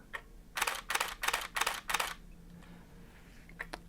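Nikon D850 shutter in continuous quiet mode firing a burst of five soft, evenly spaced clicks, close and clear, followed by quiet and a couple of faint later ticks.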